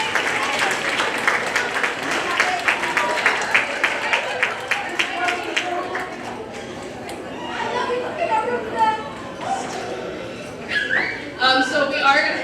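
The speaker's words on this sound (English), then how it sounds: "we're going to applaud them one more time because they are super special" An audience at a school theatre awards evening claps and cheers for a children's group, bursts of applause mixing with chatter and laughter, fading and then swelling again toward the end.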